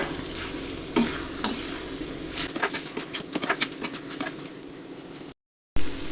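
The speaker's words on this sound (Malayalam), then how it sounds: "ഇനി അതിലേക്ക് വറുത്ത് വെച്ച ചെമ്മീൻ ഇട്ട് കൊടുക്കുന്നുണ്ട്. നന്നായി മിക്സ് ചെയ്തെടുക്കാം" Fried prawns stirred into a sizzling masala for prawn biryani, loud steady frying hiss with repeated scraping stir strokes that grow busier midway, then a brief gap of silence before the sizzle returns.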